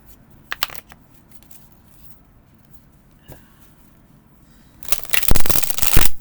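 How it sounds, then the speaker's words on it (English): A deck of flexible, bendy Nightmare Before Christmas tarot cards is shuffled, with a few brief riffles early on and then a loud, sustained burst of riffling close up at the end. "if you're okay with shuffling the regular size tarot, you should be okay with this because it is bendy flexible"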